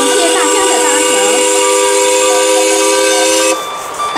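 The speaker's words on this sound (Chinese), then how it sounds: "本次列车已抵达我们的目的地西露天吊车场" A train pulls into the Taipei railway workshop during a railway culture festival, with a loud sustained whistle tone and steady hiss that cut off abruptly near the end, while a voice is faintly heard beneath.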